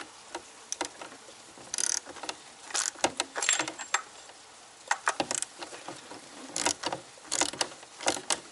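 Socket ratchet working on the oil filter housing of an Alfa Romeo Giulia QV, giving close, irregular bursts of metallic clicking and rattling with brief pauses between turns and no talking.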